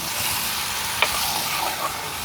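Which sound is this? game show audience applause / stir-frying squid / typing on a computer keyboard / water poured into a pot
stir-frying squid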